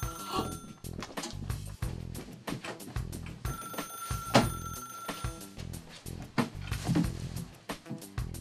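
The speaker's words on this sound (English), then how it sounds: "That's the red phone." A red telephone rings in repeated bursts, faint and somewhat distant, with scattered background bumps and movement.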